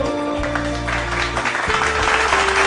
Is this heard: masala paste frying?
no